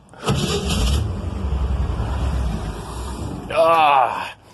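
A 1956 Chevy engine fitted with a rebuilt Holley carburetor idling outdoors, a loud rumbling run with wind buffeting the microphone and someone speaking briefly near the end.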